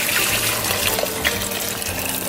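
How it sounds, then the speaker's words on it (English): Chicken broth poured into a pot, six cups' worth, a steady close liquid rush and splash running unbroken for a couple of seconds with no voices. "And then you're gonna pour in 6 cups of chicken broth."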